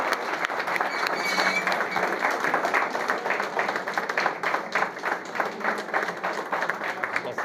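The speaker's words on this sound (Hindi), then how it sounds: "जोरदार ताली बजनी चाहिए, जोरदार ताली ताली बजाई जोरदार।" A crowd at an SC/ST defence convention gives the standing chairman loud applause: many hands clapping in a dense, slightly rhythmic patter that stays strong and continuous throughout.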